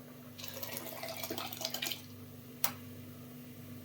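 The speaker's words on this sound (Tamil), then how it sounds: "நல்லா இப்போ பருப்பை இதில் ஊற்றிடணும்" Cooked lentils for onion sambar are poured into the pan with a soft, wet splashing and gurgling pour lasting about two seconds, followed by a single sharp knock, faint and close.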